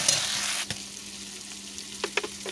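Rohu fish curry with pumpkin bori, potato, eggplant, salt and green chillies sizzles loudly in a pan over a wood-fired clay stove, then quiets as a spoon scrapes and clinks a few times while stirring.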